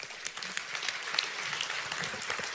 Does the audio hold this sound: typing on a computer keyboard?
no